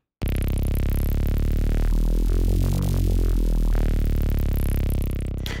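Wavetable synth patch held as one sustained, loud note whose pitch slowly drifts and wavers under LFO modulation, harmonics bending and smearing through the middle before settling; no voices.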